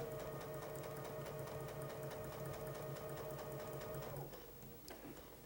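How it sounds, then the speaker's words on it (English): A sewing machine stitches a quilt seam with a steady, fast mechanical whir and rapid needle rhythm, close and continuous, then slows and stops near the end, leaving a quieter clicking. "we'll sew that seam following the edge of the piece with the edge of the presser foot"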